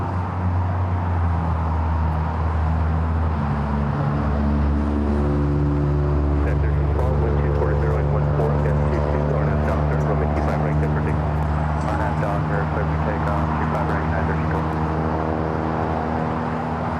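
Airliners at LAX, including an A350 pushing back, produce a loud, steady jet engine roar with sustained whining tones rising in pitch as power builds toward takeoff, continuous and close, with a voice speaking over it.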